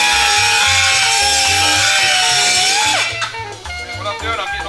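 A die grinder with a carbide burr cleans weld slag from inside a bolt hole, making a loud, close, steady high whine that winds down near the end over low rhythmic thumping.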